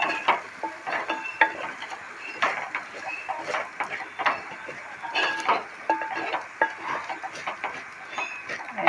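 Millet frying in ghee in a home kitchen pan, a soft sizzle under repeated scraping and stirring strokes with a utensil, irregular clinks of metal against the pan, close and moderately loud.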